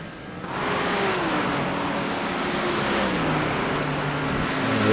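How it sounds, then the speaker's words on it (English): GT3 race car in iRacing at Spa-Francorchamps roaring past, a loud sustained engine note with rising and falling pitch as it sweeps by, with continuous track noise throughout. "Oliver Forsström passing by in the Quatermass car"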